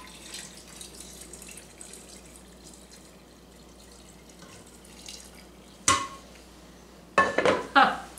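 Pickling brine poured from a spouted container into a jar of eggs and beets, a soft running trickle under room noise, then a few sharp glassy clinks and knocks near the end.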